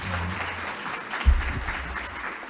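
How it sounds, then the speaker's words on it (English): An audience at a lunchtime history talk applauds steadily for a couple of seconds, a dense, even wash of clapping with one louder thump near the middle. "let's give MPB a round of applause and Nancy Carpenter"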